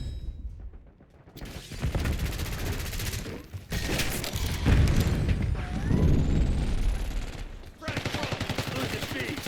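Automatic gunfire in the Call of Duty: Black Ops 6 video game comes in loud, fast rattling bursts broken by short pauses, mixed with game effects and brief radio-style voices.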